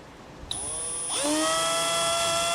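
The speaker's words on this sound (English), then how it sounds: "I'm going to take this itty bitty drill bit" A small drill bit bores a pilot hole during a brake controller installation on a 2012 Nissan. A high, steady electric whine starts abruptly and holds loud and close, rising slightly in pitch as the motor spins up.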